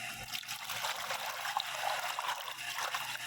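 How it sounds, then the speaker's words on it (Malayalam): Water trickles steadily into a basin being prepared to disinfect orchid cuttings, a continuous close pouring splash lasting the whole stretch with no talking. "ഇതിലേക്ക് നമ്മൾ കുറച്ച് വെള്ളം ഒഴിച്ചു കൊടുക്കുകയാണ്"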